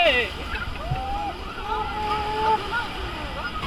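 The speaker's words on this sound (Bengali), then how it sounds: "সাংঘাতিক তো ঢেউ সাংঘাতিক ঢেউ" Ocean waves at Puri beach make a steady, broad roar of surf with wind noise, while people talk over the wash of the water.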